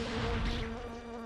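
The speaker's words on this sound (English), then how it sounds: "Because bees... Oh, it's 4 bees now" Several bees buzzing in the video game Alundra 2, a steady close insect drone that holds for a brief moment with no talk.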